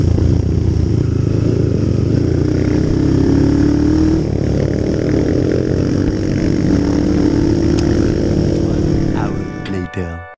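A motorcycle engine running steadily on a long mountain trail ride at Mt. Ugo, loud and close with rising and falling revs, a voice talking over it, then the engine cuts off near the end.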